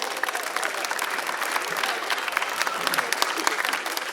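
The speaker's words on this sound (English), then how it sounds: "let's give them a round of applause" Families and campers at a summer camp's last-day concert give a round of applause to returning camper families, dense clapping with sharp individual claps standing out, steady and fairly loud throughout.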